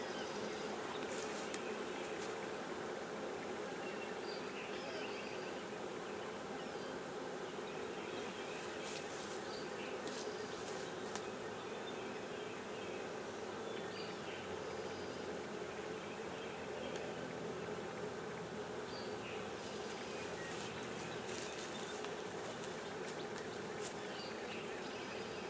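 Honey bees buzz steadily around a newly set hive outdoors, a continuous close, even drone of many wings with occasional louder passes near the listener.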